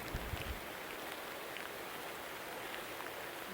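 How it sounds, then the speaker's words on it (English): Heavy rain falls steadily along the Kennebec River on the Appalachian Trail, a dense, even hiss that stays constant throughout with no voices. "raining pretty hard though"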